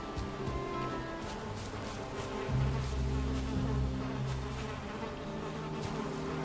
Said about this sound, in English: I think I hear bees in there